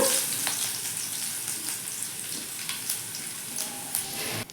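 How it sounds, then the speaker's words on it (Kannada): Tempering for sambar crackles in hot oil, a steady broad sizzle with sharp spatters popping throughout, close and fairly loud with no speech. "ಈಗ ನೋಡ್ರಿ ಸಾಂಬಾರಿಗೆ ಒಗ್ಗರಣೆ ಕೊಟ್ಟರು"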